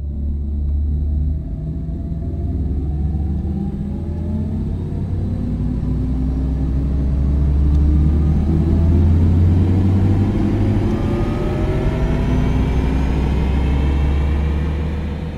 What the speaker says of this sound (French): sur les voitures électriques par sécurité il y a une ambiance sonore qui est ajoutée aux voitures pour qu'on puisse les entendre de l'extérieur